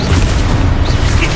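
A Confringo spell explodes in the Hogwarts Legacy video game, a loud, dense, booming blast that roars continuously without a break.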